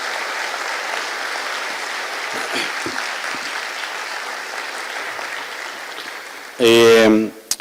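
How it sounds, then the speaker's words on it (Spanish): Audience applause for the panelists at the closing plenary round table of a mathematics education conference, a steady crowd patter filling the room for several seconds before a short burst of amplified speech near the end. "Muchas gracias a los panelistas. Un aplauso."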